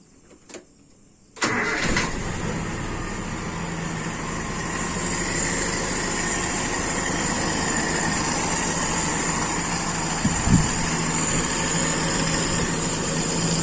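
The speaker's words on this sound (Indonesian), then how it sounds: "Kita nyalakan mesin." A car engine cranks and catches after a short quiet, then settles into a steady, close idle hum with a brief bump near the end, during a PCV valve test.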